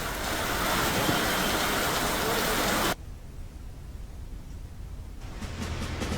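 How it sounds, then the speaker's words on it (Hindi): Continuous rain in Himachal and Uttarakhand makes a steady, close hiss for a few seconds, then cuts to a softer, more distant wash of falling rain. "हिमाचल और उत्तराखंड में भी लगातार बारिश हो रही है।"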